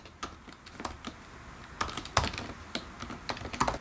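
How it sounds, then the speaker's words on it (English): An email address being typed on a computer keyboard, quiet irregular clicking keystrokes in short bursts at close range, with no talking. "Let's go ahead and key in an email address right now."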